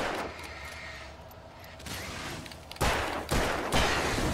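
Gunfire and explosions from the video game Alan Wake Remastered: a stretch of scattered shots, then three heavy, loud blasts in quick succession near the end.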